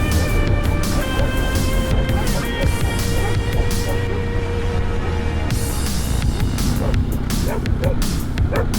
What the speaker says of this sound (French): Alors le chien, c'était pas prévu, hein.